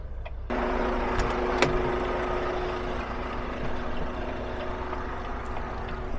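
Vehicle engine running steadily in 6th gear while crawling down Wolf Creek Pass at about 25 mph, a constant low drone with a faint steady whine, starting abruptly and holding even throughout.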